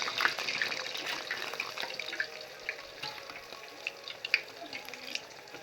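Lentil and semolina fritters fry in oil, a quiet bubbling sizzle with small scattered pops and crackles, soft and fairly close.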